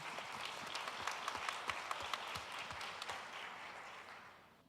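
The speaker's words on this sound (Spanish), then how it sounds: "y además está Ibrahim Cordero, para quienes pido un aplauso" An audience at a university panel event claps and applauds steadily for several seconds, the sound spread out and moderately distant, tapering off at the end.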